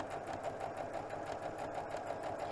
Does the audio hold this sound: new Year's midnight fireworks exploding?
no